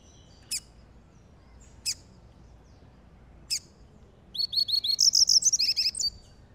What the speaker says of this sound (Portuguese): E esse passarinho é biquinho azul.